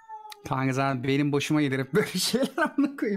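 A cat meows several times, loud and close, while someone talks over and between the cries.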